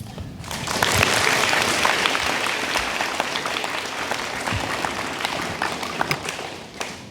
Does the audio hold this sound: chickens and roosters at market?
no